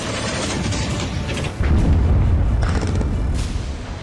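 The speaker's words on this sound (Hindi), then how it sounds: "बेहिसाब धमाके, दनादन हमले और धुआंधार वार हो रहे हैं।" Explosions and artillery fire boom continuously in war footage, forming a dense, heavy rumble of blasts that grows louder partway through, with no voices.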